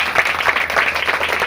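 A church congregation claps loudly and steadily for a short stretch, a dense continuous burst of applause close to the listener.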